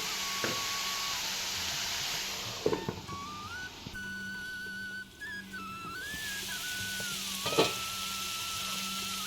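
Broccoli and garlic fry under a lid in a covered pan, giving a soft, steady sizzle. A thin whistling tone and a few clinks and knocks come through, and no one speaks.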